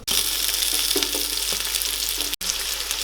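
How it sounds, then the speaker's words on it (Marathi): Sliced onion fries in about three spoons of oil for a home-style chicken biryani: a dense, continuous close-up sizzle with faint stirring movements, cut by one very brief dropout near the end. "तेलात आता आपण कांदा हा टाकून घेतलेला आहे। आता हा पूर्ण ब्राऊन होईपर्यंत आपल्याला भाजून घ्यायचा आहे।"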